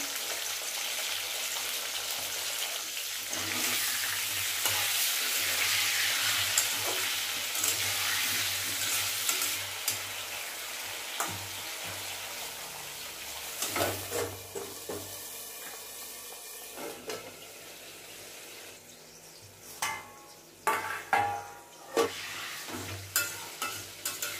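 Potatoes with salt sizzle loudly in a pan of hot oil seasoned with cloves, a steady close hiss. Toward the end the hiss eases and sharp scraping stir strokes break through.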